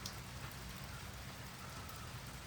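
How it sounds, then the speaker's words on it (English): Light summer rain falls steadily in sunshine, a soft, even patter of drops on surfaces, quiet and continuous without any voices. "this is a nice little summer light rain that we're getting to water everything in."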